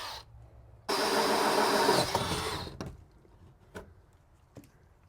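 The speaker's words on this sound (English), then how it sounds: "So I'm going to drill on either side of this support beam here" Power drill boring into a barn support beam, a loud continuous whir of about two seconds that winds down into a few short, sharp knocks and clatters against a quiet background.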